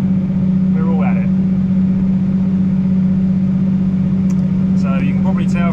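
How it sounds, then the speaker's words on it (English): A tractor engine pulls a seed drill direct-drilling beans into grass, holding a loud, steady low drone near the microphone, with someone talking over it. "So you can probably tell from the engine noise, it's quite a steady old slog."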